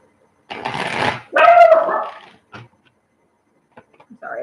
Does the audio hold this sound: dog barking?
yes